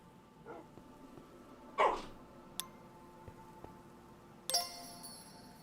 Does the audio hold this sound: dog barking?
yes